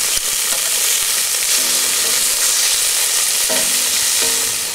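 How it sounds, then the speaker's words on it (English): Steady, loud crackling sizzle of side pork frying in a pan, continuous throughout with occasional scraping stirs. "Now we'll let this stuff fry up a little bit."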